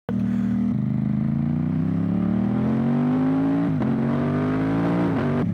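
A learner motorcycle engine revs hard and pulls away, its loud, close drone rising steadily in pitch through the gears with brief dips at the shifts and no talking.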